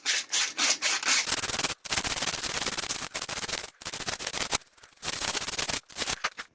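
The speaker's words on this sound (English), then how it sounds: "Same again, just give it a scratching up with the 80 grit." Sanding by hand with 80 grit sandpaper on a part of an Escort, loud, close scratchy rasping strokes that come in repeated bursts separated by short pauses.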